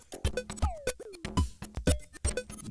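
A punchy electronic beat from a Reaktor groove box plugin running in Cubase, with thumping kicks, sharp snares and pitch-sweeping synth blips in a steady loop, close and alone without talking.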